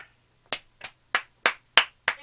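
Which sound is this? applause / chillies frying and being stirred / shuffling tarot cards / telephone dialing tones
applause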